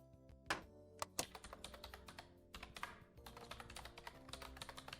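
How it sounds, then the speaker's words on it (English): Rapid typing on a laptop keyboard with a hard, clacky, typewriter-like sound, close and steady, with a few sharper key strikes early on and no talking. "Your laptop keyboarding sounds typewritery."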